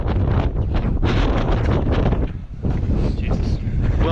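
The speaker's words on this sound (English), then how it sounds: "the wind now and again, quite often, is just pushing this almost flat" Strong gusts of wind buffet a tent pitched on a wild camp at Ros Castle, a loud, continuous roaring rush with flapping surges and a brief lull midway.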